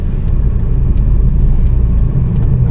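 A car reverses slowly across snow during a winter driving test, its low steady engine rumble continuous and close, with no voices over it.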